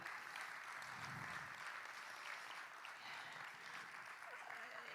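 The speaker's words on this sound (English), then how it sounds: "I'd like to give Scarlett a round of applause on her vulnerability." Audience applause at a TEDx Brown County Schools talk, a steady, even wash of clapping from a seated crowd lasting throughout, moderately loud and without pauses.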